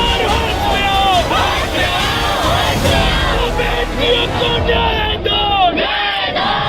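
A loud crowd at a wrestlers' protest chants political slogans in rhythmic unison, many raised voices close by and blending into a steady roar.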